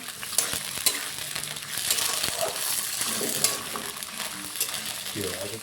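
Chickpeas sizzle in a pan with scraping stirs and occasional clinks of a spoon against metal, a steady frying hiss underneath.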